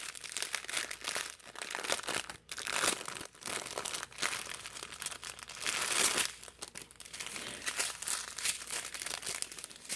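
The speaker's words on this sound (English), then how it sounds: "I like to give you that crinkle ASMR, so once I can find the tab, we'll do that." Plastic bags of diamond-painting gems from an all-in-one kit crinkle and rustle up close in loud, continuous bursts of handling, crisp and crackly with short pauses, with no talking.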